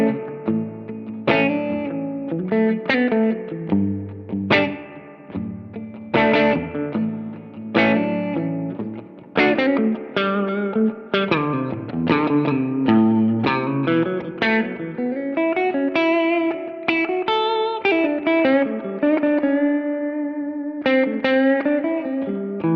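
Electric guitar chords and picked notes drenched in spring reverb from an Echo Fix EF-P2 pedal, each hit trailing a splashy, wobbling echo as the tone swells and thickens.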